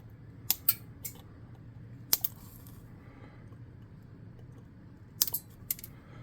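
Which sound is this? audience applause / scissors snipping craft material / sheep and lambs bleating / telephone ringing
scissors snipping craft material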